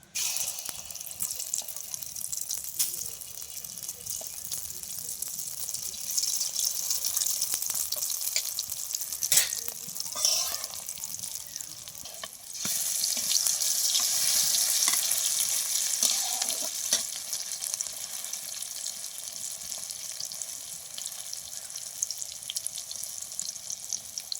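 A mushroom omelette fries in a hot pan with continuous crackling sizzle, swelling louder partway through, with occasional scrapes and stirring clinks and no talking.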